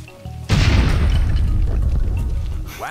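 A dynamite charge detonates in Lego City Undercover with one loud, close boom that swells into a sustained rumbling roar and fades slowly. A brief rising tone follows at the end.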